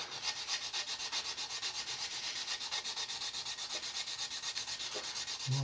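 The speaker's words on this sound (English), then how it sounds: "all we've got to do is pop along then with our sanding sticks" Fast rhythmic scratchy strokes of a medium sanding stick rubbed back and forth over cured CA filler on a scale model, close and steady with no voices.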